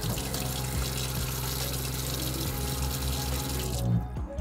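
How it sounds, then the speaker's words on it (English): Steady, close, continuous rush of running water from a faucet into a truck camper sink, cutting off near the end. "Running water, that is a game changer."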